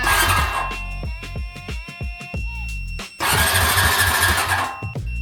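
Ford Mustang engine cranking in sharp repeated starter bursts, then catching and roaring loudly near the end, with a brief pause before it fires up and runs.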